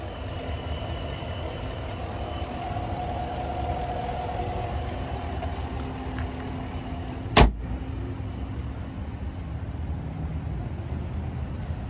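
A 2022 Chevrolet Silverado 1500 with a 5.3 liter V8 idles with a steady low hum, followed by a single sharp thump and then a quieter interior.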